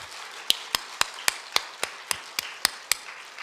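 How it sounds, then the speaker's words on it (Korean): A church congregation claps in slow, evenly spaced single claps during a revival sermon, about ten crisp strikes over a soft room hiss, with no talking. "여러분 이럴 때 박수하는 거예요."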